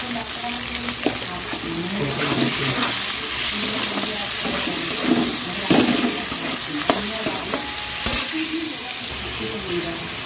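Onions fry in oil with garam masala in a pan for a chicken curry, giving a dense continuous sizzle with scraping stirring strokes throughout, close and fairly loud.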